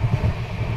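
A passenger train running on rails heard from inside, a loud low rumble with rhythmic pulses of wheel noise over a short stretch, no voices.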